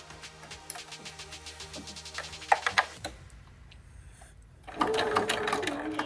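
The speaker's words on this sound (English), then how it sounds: "I'm going to sew over it with a 1/4-inch seam allowance." Sewing machine stitching a quarter-inch seam on a fabric mask, rapid mechanical clatter in short bursts with brief pauses between runs, fairly quiet and close.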